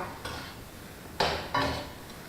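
Rice and chili are stir-fried in a pan: three short, faint scraping strokes of a spatula, the last two close together, over a quiet background.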